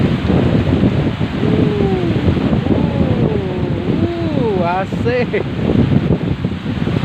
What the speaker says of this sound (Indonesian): Hujannya tambah banyak, angin tambah kencang pak.